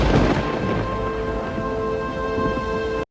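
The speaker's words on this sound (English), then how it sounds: "And in this storm too." A thunderstorm with rain in the 1995 film Sense and Sensibility: a heavy, continuous downpour with a low rumble of thunder at the start, loud and steady under a faint musical tone, then cutting off abruptly.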